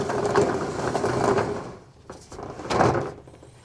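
A roll-up door on a storage shed rattles and rumbles as it closes, like a garage door, in two bursts of rolling clatter separated by a brief quieter pause.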